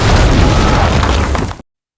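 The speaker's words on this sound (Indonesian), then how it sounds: "Ledakan besar mengguncang" A huge explosion in a World War II tank battle film produces a loud, booming, sustained roar that fills the whole sound for about a second and a half, then cuts off abruptly.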